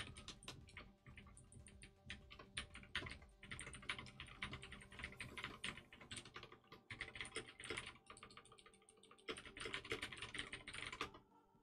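Fast, uneven typing on a computer keyboard, bursts of close crisp key clicks with brief pauses between them, no voices present.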